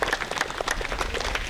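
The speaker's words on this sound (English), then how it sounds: "So please give them your applause." A crowd at a community unity walk applauds the event organizers with a burst of steady, fairly distant clapping that carries on through the whole short stretch.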